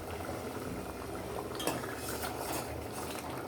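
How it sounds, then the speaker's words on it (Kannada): Spinach and potato palak gravy bubbles softly in a lidded pot, a faint, continuous simmer with one light clink partway through. "ಸಕ್ಕದಾಗಿ ಕುದಿ ಬರ್ತಾ ಇದೆ"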